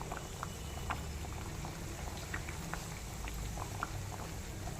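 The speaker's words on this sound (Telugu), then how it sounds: "కర్రీని ఒకసారి చూద్దామండి అలా కుక్ అవుతుంది" Godavari-style fish curry (chepala pulusu) simmers in a covered pot on a slow flame, giving a faint, steady bubbling with soft pops and patter, alone and close.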